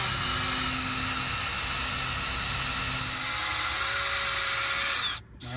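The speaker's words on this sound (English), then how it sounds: "We're gonna drill a hole, pull the bit out, and then shut the valve." A drill bores through a water main during a hot tap, a loud steady whining grind that shifts pitch slightly near the end, then stops abruptly as the bit breaks through.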